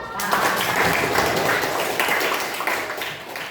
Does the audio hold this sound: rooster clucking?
no